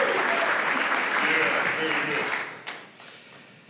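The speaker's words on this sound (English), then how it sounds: "Let's hear a big applause for Paul Cobblestone from Supabase." An audience at a tech conference keynote claps and cheers for a speaker from Supabase. The dense, loud applause fades out over the last second.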